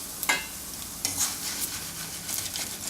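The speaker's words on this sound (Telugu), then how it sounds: "ఎప్పుడైనా సిమ్లో పెట్టేసి వేపుకుంటే మనకు చక్కగా వేగుతాయి." A snack frying in oil over a low flame, with a soft, steady sizzle, occasional stirring scrapes and light crackles close by.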